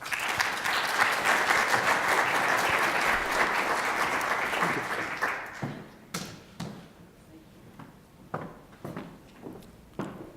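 Audience applause at a CMU Energy Week keynote session fills the first half with dense, steady clapping, then thins to scattered individual claps fading out.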